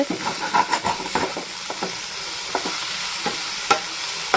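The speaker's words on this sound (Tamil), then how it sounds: "வெண்டைக்காவும் சூப்பராக ஃப்ரை ஆகிடுச்சு" Okra sizzles and crackles in a hot pan close by, with scraping stirring strokes at irregular intervals and no voices.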